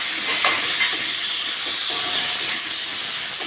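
Chopped tomato hits hot oil with potatoes, salt, chili and spices for aloo dum: a loud, steady sizzle and hiss of frying, with faint stirring, close up and without voices.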